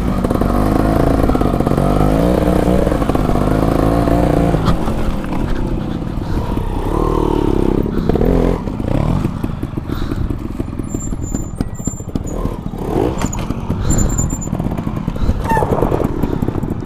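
A trials motorcycle is ridden nearby, its engine buzzing and revving in uneven bursts as the rider works the throttle, loud and continuous with no talking.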